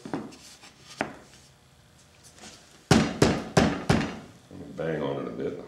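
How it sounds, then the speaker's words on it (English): Carved wooden horse body pieces fitted together and banged on: scattered light knocks, then a run of four loud, sharp wooden thumps close up, followed by a scraping rub. "Bang on it a bit, hopefully that'll be enough."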